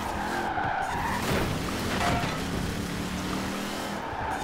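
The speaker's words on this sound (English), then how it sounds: "Oh, beautiful drifts." A car drifts in Forza Horizon 4, its tires squealing in a long skid over a revving engine, loud and close, with the screech rising and falling through the slide.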